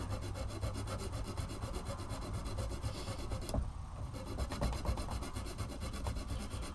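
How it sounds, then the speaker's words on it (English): Steady metal file rasping across fret ends on a handmade cigar box guitar neck, fretwork edged with masking tape, with a continuous scraping rhythm close up that pauses briefly midway and then resumes. "I'm just filing"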